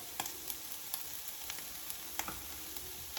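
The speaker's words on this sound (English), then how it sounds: "I am going to sear these up" Yellow teardrop tomatoes searing in a pan for an egg and veggie breakfast scramble, a steady hissing sizzle broken by a string of small regular pops and ticks, close and moderately quiet.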